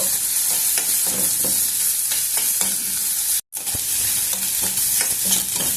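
Onion pieces with chillies and curry leaves frying in oil, a loud continuous sizzle with scraping stirring strokes, close up, briefly cutting to silence midway before resuming.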